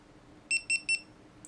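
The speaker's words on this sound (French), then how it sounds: "3 petits bips" Three short high-pitched electronic beeps from a GoPro Hero 4 Silver camera in quick even succession, fairly faint over quiet background, followed by a brief higher chirp.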